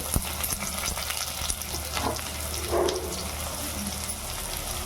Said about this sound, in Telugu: ఈ ఉల్లిపాయ అంతా మంచిగా ఆయిల్లో వేగేటట్టు కలుపుకుంటే బాగుంటుంది.